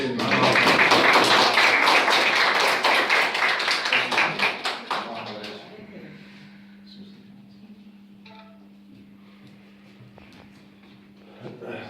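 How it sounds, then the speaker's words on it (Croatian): Audience applauding at a school diploma ceremony, a burst of loud, many-handed clapping that fades out after about five seconds, leaving a quiet room with a steady low hum. "Ajmo aplauz."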